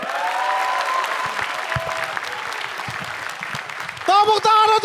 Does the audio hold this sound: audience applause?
yes